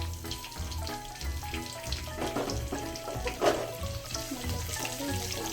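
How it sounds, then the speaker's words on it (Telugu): Dried red chilies, cumin and mustard seeds crackle and sizzle in hot tempering oil, a steady close frying hiss with small pops and one brighter burst, over low background music. "ఇవి ఎండుమిర్చి, జీలకర్ర, తాలింపు గింజలు, ఆవాలు వేస్తున్నాం."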